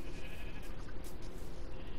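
Sheep bleating in the Minecraft video game, a short run of game-style bleats heard alone against a steady low background, without talk.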